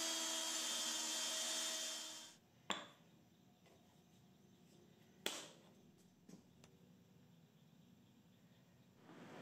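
A power drill whirs steadily for about two seconds while drilling holes in wood, then stops, followed by a few sharp clicks and knocks in a quiet room.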